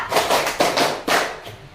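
A classroom group of students claps a rhythm pattern in unison, with several sharp clap bursts about half a second apart, fairly close and loud, and no talking.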